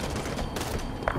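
Gunfire in the Halo 5 video game: a dense, steady clatter of shots sustained throughout, with a sharper burst near the end, loud against game ambience.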